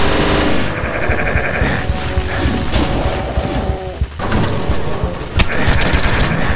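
Loud, rapid gunfire in DOOM: Hideous Destructor, with dense automatic bursts and crashing impacts running nearly the whole time. There is a brief lull before another heavy barrage.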